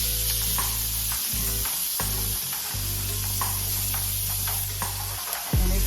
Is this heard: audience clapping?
no